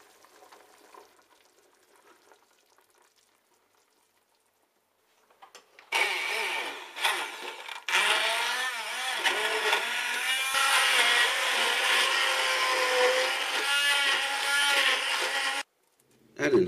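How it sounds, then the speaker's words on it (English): Hand blender whirring through carrot and coriander soup in a pan: a loud, steady buzzing grind that starts abruptly after a quiet stretch, runs about ten seconds with a brief stutter near the start, then cuts off. "Using your hand blender, blend the soup until smooth."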